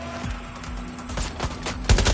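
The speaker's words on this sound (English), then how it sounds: "They're shooting at us! They're shooting!" Enemy gunfire in a video game: several sharp shots crack out in quick, irregular succession at moderate distance, over a low background hum, with a heavier burst near the end.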